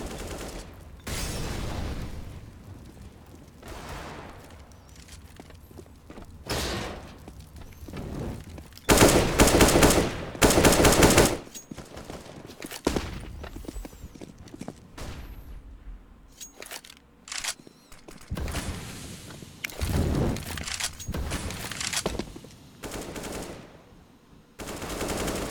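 Desert Eagle pistols fired in rapid spam during a CS:GO esports match, bursts of sharp gunshots clustered in volleys with quieter gaps between, heard without commentary.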